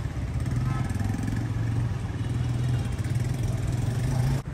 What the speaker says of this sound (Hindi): पहली बार आगे चलते हुए देखें बाइक की